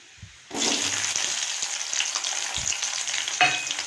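Chopped onions drop into hot oil with popped mustard seeds, chana dal and urad dal in a pan for kozhinji fruit rice; a sudden loud sizzle bursts in after a quiet moment and keeps hissing steadily, with a few stirring scrapes.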